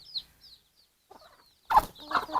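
Chickens and a rooster at a farmyard, a few soft high chirps followed by louder clucks close by, no talking.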